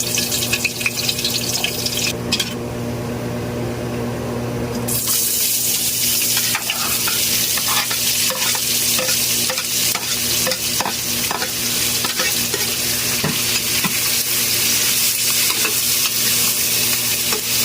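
Onions sautéing in hot oil with pepper in a home kitchen, a steady loud sizzle throughout with frequent scraping stirs, a brief quieter patch early on before the frying noise swells back.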